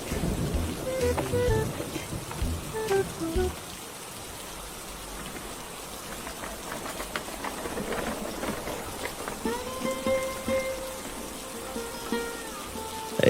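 Rain patters on surfaces in an animated story set at a street stall selling fried chicken chops, a soft steady shower with a few sharper drips and faint rumbles underneath.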